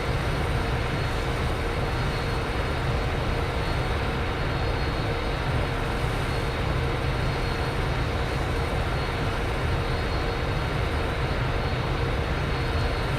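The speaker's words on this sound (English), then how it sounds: "Engine 2 now starting." A simulated Boeing 747-400 jet engine (engine 2) spools up during startup in Microsoft Flight Simulator X, roaring in a dense, steady broadband rumble with a faint whine, loud and unbroken, and no one speaks.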